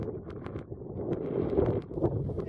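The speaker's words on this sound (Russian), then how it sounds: "Сегодня дует такой ветерок, метров 7" Wind of about seven metres per second blows outdoors by the water on a fishing trip, a steady low buffeting rush across the microphone with faint irregular knocks, and no voices.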